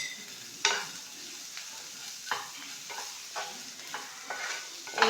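Cooked chicken with onions is stirred and fried in a pan, giving a soft steady sizzle broken by about eight sharp scraping strokes of a spoon at an irregular rhythm, close and fairly quiet, with no talking.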